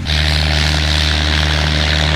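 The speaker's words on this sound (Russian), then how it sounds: "Улетел, наконец-то, самолет, который нам мешал снимать." A propeller airplane drones steadily overhead near a glider winch launch site, a loud continuous engine hum with strong low tones holding throughout.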